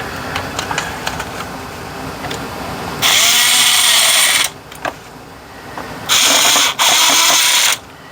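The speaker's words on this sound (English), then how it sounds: "Anytime you're working on an instrument cluster, if you're using a drill like this, it's better to just use a screwdriver." Cordless drill driving T15 screws on a 2004–2008 Ford F150 instrument cluster, two loud whirring bursts of a few seconds each, close up, with light ratcheting clicks before and between, and no talk.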